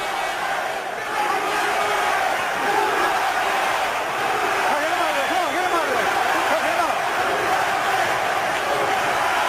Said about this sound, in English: Crowd chanting USA.